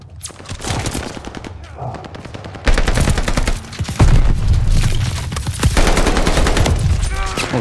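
Rapid bursts of automatic gunfire from a gun in the video game Call of Duty Vanguard, loud and close, firing in repeated sustained strings with short pauses between volleys.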